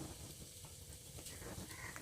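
Whole cumin seeds sizzle in the hot oil left in a kadai after frying fish, a soft, steady crackling hiss with small pops, faint and continuous throughout.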